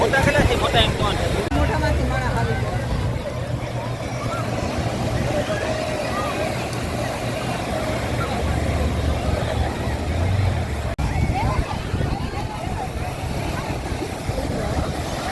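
A boat's engine drones steadily over rushing sea water and wind on the way to Bet Dwarka, with voices talking throughout.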